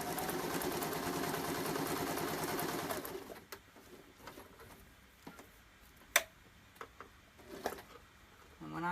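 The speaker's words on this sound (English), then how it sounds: "I'm just going to be top stitching right along the edge here of each side" A sewing machine top stitches along the edge of a vinyl ID wallet, humming steadily for about three seconds before stopping, then the clip turns to quieter handling with scattered sharp taps and clicks.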